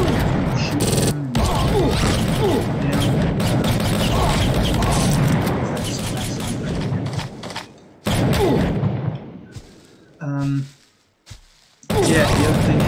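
AI enemies in a GameGuru game fire steady, loud gunfire for most of the stretch, then it breaks into short separate bursts with silent gaps between them. Someone talks over the shooting.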